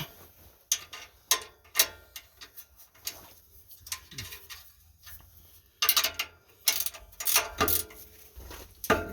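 A ratchet wrench clicks in quick bursts while tightening the exhaust on a Nissan Frontier pickup, close and crisp with pauses between runs and light metal taps.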